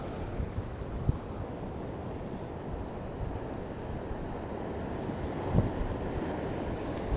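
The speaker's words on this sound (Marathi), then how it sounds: "जबरदस्त समंदर खवललेला आहे खवललेला" Rough sea at a Mumbai shoreline during low tide churns in a continuous broad wash of surf and wind, with a few louder wave surges rising out of the steady roar.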